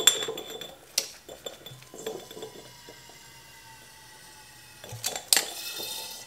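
Priming sugar is added to a glass beer bottle during bottling, with scattered light clinks of glass and small rattles set against quiet pauses. No one speaks.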